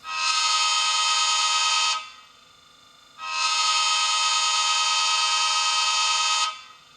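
A model train sound decoder in a Bachmann ACS-64 electric locomotive sounds a loud, sustained horn twice, each blast long and steady with a short gap between, close up and alone.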